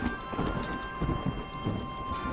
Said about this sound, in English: So we're going to be getting a lot of rain.